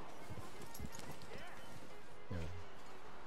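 A few scattered hoof clops sound close by from a horse in the video game Red Dead Redemption 2, with a voice speaking over them.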